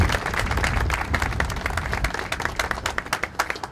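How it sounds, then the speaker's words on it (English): An outdoor crowd at a park vigil for the Armenian genocide centenary in Boston claps together, a full, close burst that gradually thins into scattered individual claps near the end. "So another round of applause for Marie Gruen"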